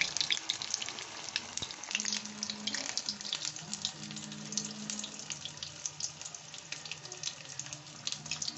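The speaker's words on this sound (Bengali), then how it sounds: "একটু লালচে করে ভেজে নেব" Baby corn coated in batter frying in oil, a constant crackling sizzle with fine popping bubbles, moderately quiet and uninterrupted.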